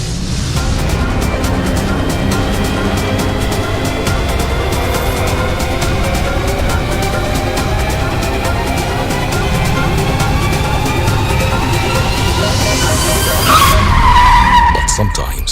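A Tata Sierra.ev electric SUV launches from a standstill during a safety test, giving a loud, continuous tire squeal and skidding roar with a rising whine that builds across the run and peaks near the end.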